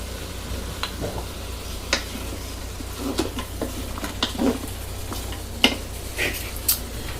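Minced meat fries in a pan as a vegetable mix is stirred in, producing a continuous close sizzle punctuated by repeated scraping strokes and light clinks of a utensil against the pan, with no one talking.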